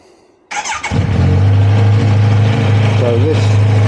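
Kawasaki Z900RS motorcycle on its standard exhaust starting up: a short cranking burst catches into a loud, steady low idle that holds close by, with a brief blip near the end.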